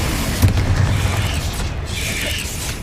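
Confringo fire spell in Hogwarts Legacy, a short muffled boom of an explosion followed by rumbling mechanical clatter, moderately loud and brief.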